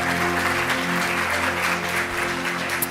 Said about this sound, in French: On acclame Dieu.